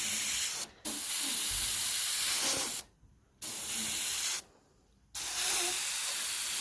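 An airbrush sprays paint over paper stencils in long, loud hissing bursts, broken by three short silent gaps as the trigger is released and pressed again, with no talk.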